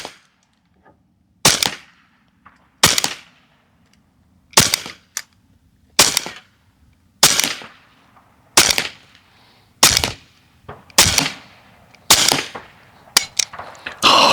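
An AEA SF .30 caliber airgun fired from belt-fed magazines, about a dozen sharp, loud single shots spaced roughly a second apart, each with a short ringing decay, close to the microphone.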